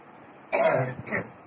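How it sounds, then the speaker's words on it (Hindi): A woman with a cold and a severe cough gives a single rough cough or throat-clear close by, followed by a shorter second burst, in an otherwise quiet room. "इनको बहुत तेज खांसी आ रहा है"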